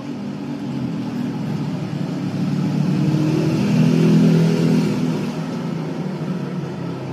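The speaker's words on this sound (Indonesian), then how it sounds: "Mesin sudah mulai menyala" A single-tub Samsung washing machine runs with a steady motor hum and churning drum, swelling a little louder midway and then easing back, close and with no talk.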